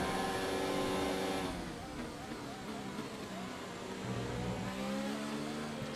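A Formula 1 car in the F1 2019 video game at Spa in Belgium screams while overtaking, its engine note loud and sustained, then easing slightly as the overtake completes.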